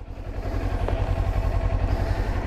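A Kawasaki Ninja 400 motorcycle out on a ride gives a steady, throbbing engine drone that holds at a fairly even level, heard close with no speech.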